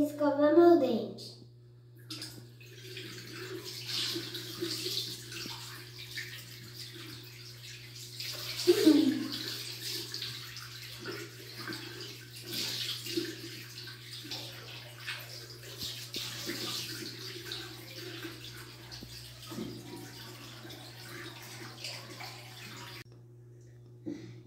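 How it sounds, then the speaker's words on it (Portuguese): Water runs from a faucet into a bathroom sink as someone washes their face and brushes their teeth, a steady close splashing with a few louder bursts of rinsing, soft voices faintly heard at times. "Agora eu vou lavar meu rosto e escovar meu dente."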